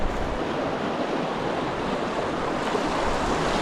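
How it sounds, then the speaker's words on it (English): Cold wind blows steadily at a creek, a broad, constant rushing roar like surf with low buffeting gusts across the microphone, heard alone without talk. "Ooh, that wind is cold."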